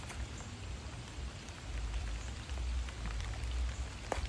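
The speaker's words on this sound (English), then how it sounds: "It's raining, guys." Rain falls on a vegetable garden, a steady soft hiss dotted with close, sharp drip ticks, a low rumble swelling midway, no voices.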